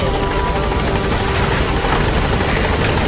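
A helicopter in the game Metal Gear Solid V: The Phantom Pain, its rotor thudding steadily and loud, close up and continuous throughout with no talk over it.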